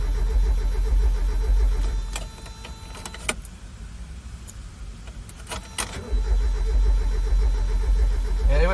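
A 1994 Mazda Miata parked for 11 years cranks without starting, with two loud, close bursts of steady starter churning separated by a quieter pause filled with clicks and small clunks.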